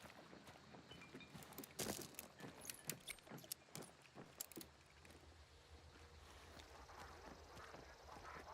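Startled ducks quacking in the game Hunt: Showdown, a burst of sharp, fairly faint calls and flaps clustered over a few seconds against a quiet outdoor ambience.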